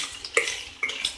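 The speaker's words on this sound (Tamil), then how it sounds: "இது இப்படியே ஸ்க்ராம்பிள் பண்ணி விட்டுருங்க" Eggs are stirred and scrambled in a pan, giving a couple of brief metallic scrapes and clinks of a utensil over a soft sizzle, close and short.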